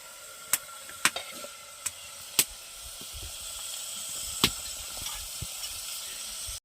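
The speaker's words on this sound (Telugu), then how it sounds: "ఇప్పుడు మిరపకాయలు పచ్చిమిర్చి వేసుకోవాలి." Green chillies frying in hot oil, heard as a steady hiss broken by scattered sharp pops and crackles, close and alone with no voices.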